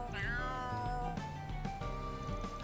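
A cat meows in the video game Kuro no Kiseki II, a short rising cry heard near the start over steady game music, with a few softer calls following.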